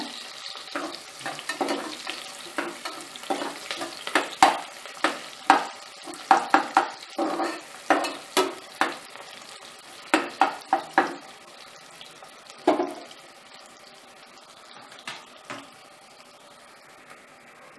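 Chopped onions fry in a pan for vegetable biryani in a pressure cooker, with a soft steady sizzle broken by repeated sharp scrapes and clinks of a spoon stirring against the pan, no talking.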